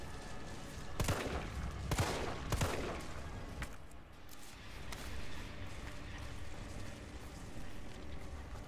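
Gunfire in Resident Evil 3 cracks out in a few sharp, close shots around the start, then gives way to softer game noise and scattered clicks.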